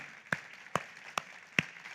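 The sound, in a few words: congregation applause in church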